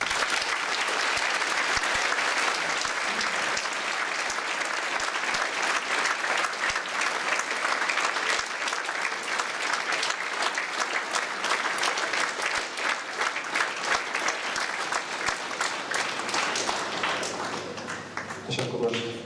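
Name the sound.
audience applauding at a school commemoration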